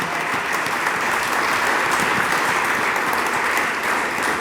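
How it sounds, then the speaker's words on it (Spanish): A church congregation applauds during a sermon, dense steady clapping that stays loud and even from start to finish with no voice over it. "denle palmas al Dios del cielo"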